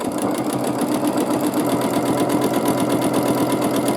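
A sewing machine quilting a baby quilt along a ruler runs in a fast, even, motor-driven stitching rhythm, close and loud throughout, with no voice over it.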